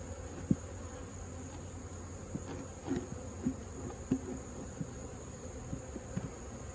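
Honeybees drone and buzz steadily around an opened hive box under smoke during a summer hive inspection, with small knocks and taps of handling scattered through the constant hum.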